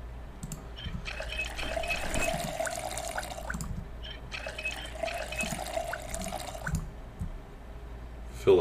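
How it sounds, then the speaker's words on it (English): Water dispenser filling water bottles in Project Zomboid: two steady pouring streams of several seconds each, separated by a short pause, with small clunks and drips around them. "fill our water bottles."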